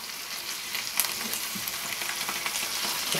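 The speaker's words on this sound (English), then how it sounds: "a few more green beans, onion, and I am going to turn it over" Green beans and onion fry steadily in a pan, a dense, even sizzle with faint scraping and stirring as the food is turned, no voices over it.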